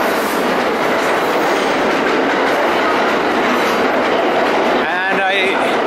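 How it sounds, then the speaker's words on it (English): A New York subway train passes in the snow, a loud continuous rumble with clattering wheels and a brief squeal of wheels near the end, while someone talks over it. "Subway going by, the snow coming down"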